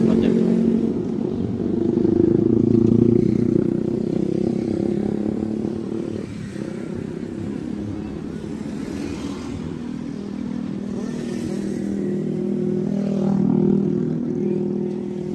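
Motorcycles and cars roll past at a Sundanese village wedding procession in Kampung Cikiraya, Sumedang, engines droning and swelling at moderate distance while people talk throughout.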